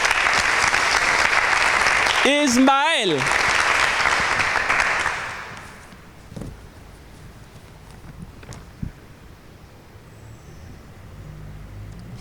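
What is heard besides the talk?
loud applause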